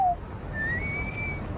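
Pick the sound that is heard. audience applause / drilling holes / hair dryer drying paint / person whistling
person whistling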